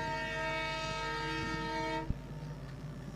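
A diesel EMD-type locomotive hauling an electric locomotive and train in Pakistan sounds a sustained horn for about two seconds, followed by a steady rolling rail rumble with a brief clank.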